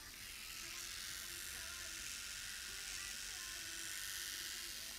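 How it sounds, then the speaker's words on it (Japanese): Electric shaver buzzing steadily while trimming fine facial fuzz, a continuous high whirring drone held throughout at close range with no pauses. "産毛を整えてます。 この部分剃って切りました。"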